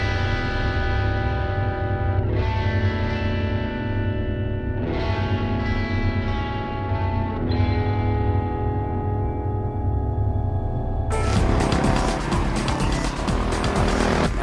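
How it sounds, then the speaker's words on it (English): A historic 1950 Formula 3 racing car engine screams up through several gears in repeated rising sweeps, loud and close, then breaks into a harsher, broader roar. "I've got this little historic 1950 Formula 3 car."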